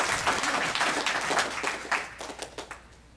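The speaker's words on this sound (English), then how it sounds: "And one big applause for her." Applause from an audience at a religious katha gathering, a moderate burst of clapping that thins out into scattered individual claps and fades.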